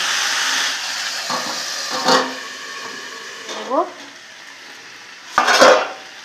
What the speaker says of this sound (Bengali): এভাবে ঢাকনা দিয়ে দিয়ে আমি ভালো করে এটাকে কষিয়ে নেব।